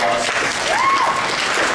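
Audience applause as a creation-evolution debate closes, brief steady crowd clapping with a thin tone and a voice briefly heard over it.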